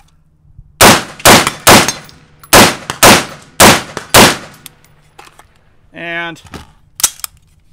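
Seven sharp rifle shots from an AR fired in quick succession on a shot timer, loud and close, spaced in uneven bursts with ringing decay, followed by a short beep and a single spoken word.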